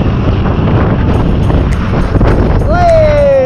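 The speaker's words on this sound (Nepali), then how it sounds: "हावा चाहिँ ओपर हान्यो है यहाँ चाहिँ" Strong wind buffets the microphone during a motorbike ride along an open, exposed hill road on the Sindhuli to Janakpur route. A loud, continuous rushing roar fills the whole stretch.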